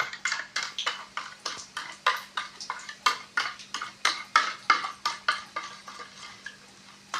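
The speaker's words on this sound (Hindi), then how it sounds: "दही को बहुत अच्छी तरीके से मिक्स कर लेना है" A spoon repeatedly scraping and clinking around a bowl while yogurt is mixed with sugar for sweet dahi bade, a steady rhythmic series of close, fairly quiet strokes.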